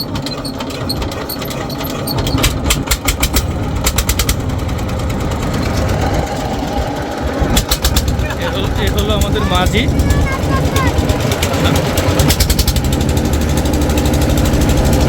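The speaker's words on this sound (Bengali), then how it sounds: "আর হলো ট্রলার স্টার্ট করতেছে দাও দাও স্টার্ট দাও স্টার্ট দাও" Trawler boat engine cranking over and running, a steady loud knocking chug throughout with rhythmic mechanical clatter, while people talk close by.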